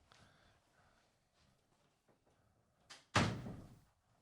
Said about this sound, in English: I'm gonna shut this door real quick.